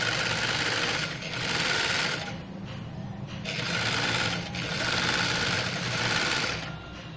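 A sewing machine stitches knife pleats onto a baby frock's neckline, running in close, steady whirring bursts with short pauses between, the motor rattling loudly each time it speeds up.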